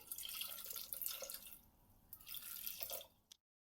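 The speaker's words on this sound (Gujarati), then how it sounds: "એકાદ કપ જેટલું આપણે પાણી નાખીશું।" Roughly a cup of water splashes and trickles into a pressure cooker holding cut potato pieces, in two short, faint pours before the clip falls silent.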